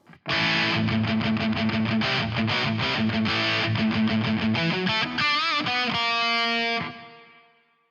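An electric guitar plays through a Boss DS-1 distortion effect on a Boss PX-1 Plugout FX unit: a fast run of chugging distorted notes, then ringing chords that fade out.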